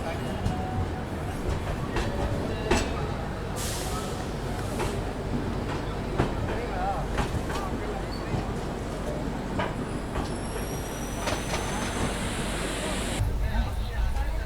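Vaishali Express train, a 2021-built coach, rolling along after leaving New Delhi railway station, with a steady continuous rumble and rattle heard from inside the carriage and faint clicks throughout.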